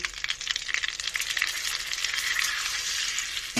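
Shrimp paste sizzling and frying steadily in a pan after a little water is added, a continuous bright hiss with faint stirring scrapes, close and fairly loud with no talking.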